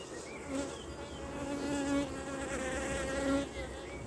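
Bees buzzing around a small colony's hive as they move up into the honey super, a soft continuous droning hum with a few individual insects passing closer now and then.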